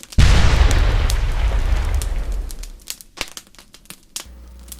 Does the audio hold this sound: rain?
no